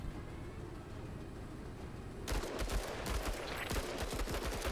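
Gunfire in the tactical game Menace crackles in rapid, overlapping bursts after a low rumbling lull, moderately distant and fairly quiet in the mix, with no talking.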